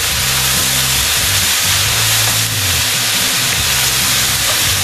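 Pre-cooked rice is tipped into a hot pan with thrice-cooked pork, giving a loud continuous hiss and sizzle with dense frying crackle throughout and no voices over it.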